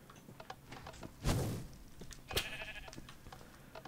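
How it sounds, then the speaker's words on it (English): Sheep in the Minecraft video game give a couple of short bleats amid clattering block and game noises, with one louder burst partway through and a second bleat shortly after. "But the sheep are now trying to escape."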